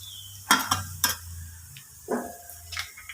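Crushed chilli is stirred into hot oil in a pan for a Kerala jackfruit-seed stir-fry. A few sharp spoon scrapes and clicks sound against a quiet sizzle, with short gaps between strokes.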